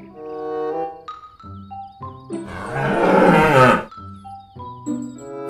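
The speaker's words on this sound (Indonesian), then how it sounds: "Wih, sekarang ada sapi teman-teman." A long, loud moo from a toy dairy cow rises over tonal musical sounds, with music playing before and after the call.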